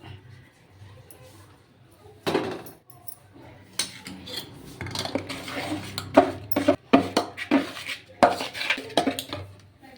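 Rice flour being stirred into hot jaggery syrup in a pot for bellam ariselu: a steady run of scraping and clinking of a spoon against the metal pot, growing busier and louder in the second half, with no talking.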